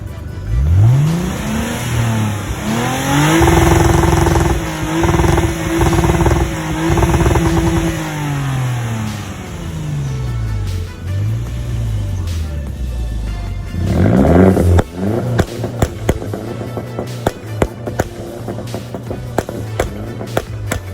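Lexus IS250 fitted with a Megan Racing exhaust revs hard several times close by, the engine note rising and falling in loud sweeps, then settles to idle broken by a rapid string of sharp pops and crackles.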